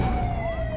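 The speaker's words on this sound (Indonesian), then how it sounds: "mobil damkar mau lewat" A loud, nearby fire truck siren holds a steady wailing tone through the whole short moment.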